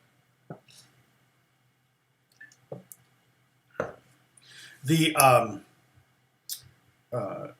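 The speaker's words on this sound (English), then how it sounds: "typing. Sam's typing" Keyboard keys click in short, sparse bursts separated by quiet gaps, close and fairly crisp, with a brief voice heard partway through.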